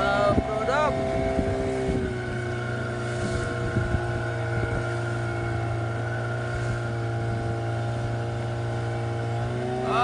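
A motorboat drones steadily while travelling east towards Labuan Bajo, a constant engine hum with wind rushing across the microphone and occasional faint voices under the noise.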